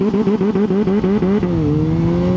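A Kawasaki ZH2 motorcycle launching under launch control, loud and close, its engine chopping in a rapid limiter-like stutter before rising smoothly as it pulls away, with no talking.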